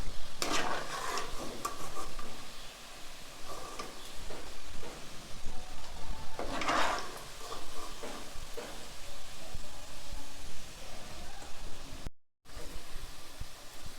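Chicken pieces frying in a pan for a chicken pickle, with a steady sizzle and repeated scraping stirs throughout, including a louder burst of stirring midway; close and continuous, no talking.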